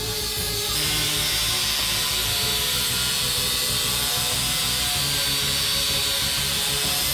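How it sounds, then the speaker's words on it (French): A sanding disc polishes a metal pipe to a shine, giving a steady, loud, continuous high whirring grind with a shift in tone just after it starts. "Utilisez un disque de ponçage pour poncer le tuyau afin qu'il soit beaucoup plus brillant."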